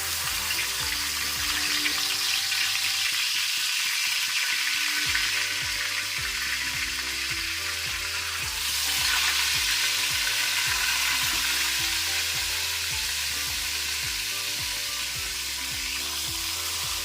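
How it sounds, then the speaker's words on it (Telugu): Fish pieces fry in oil on a flat pan (penam) for a fish dish, a steady close hiss and crackle of sizzling that runs throughout, with low tonal hum underneath and a brief dip near the start; no talking. "ఫ్రై కోసం పెనంపై ఆయిల్ వేసుకుందామండి"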